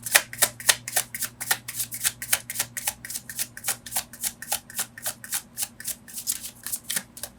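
Tarot cards are shuffled by hand in a quick, regular rhythm of soft papery slaps and riffles, close and crisp with no voices.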